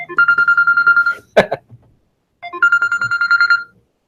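A mobile phone rings loudly and close by in two bursts of rapid warbling electronic tone, split by a short knock or thump and a pause.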